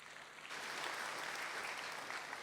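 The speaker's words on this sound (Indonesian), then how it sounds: "Kita berikan tepuk tangan buat Tuhan." A church congregation at a Sunday service breaks into applause, a soft, steady wash of many hands clapping that swells in after a quieter moment and holds evenly, heard from some distance.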